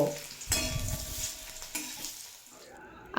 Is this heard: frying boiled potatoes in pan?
yes